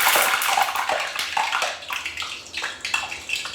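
A potato piece dropped into hot frying oil sets off a bright, crackling bubbling sizzle that starts loud and gradually settles into smaller spits.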